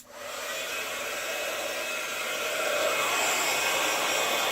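A heat gun blows a steady, loud blast of hot air onto paper, a harsh broadband whoosh that swells slightly louder partway through, with no voices.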